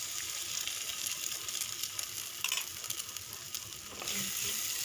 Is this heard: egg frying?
yes